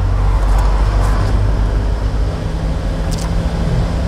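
A car engine hums steadily at low speed as the driver eases lightly onto the accelerator, with a constant low rumble and road noise throughout.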